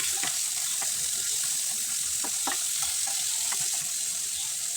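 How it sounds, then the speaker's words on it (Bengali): Tilapia fish fries in oil in a pan, giving a steady, close, hissing sizzle throughout with a few soft scrapes and clinks as the pieces are turned. "এখন চুলে একটা প্যান বসিয়ে দিব পরিমাণ মতো তেল দিয়ে দিব মাছ ভাজার জন্য"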